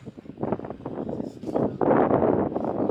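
Rough, rumbling wind buffets the microphone in uneven gusts on a windy day at a rallycross track, growing louder partway through, with no clear voices.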